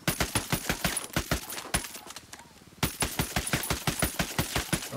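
Ghost Recon rifle firing single shots in quick, evenly spaced cracks, a dozen or so in a row, a brief pause, then another rapid string of sharp, close reports.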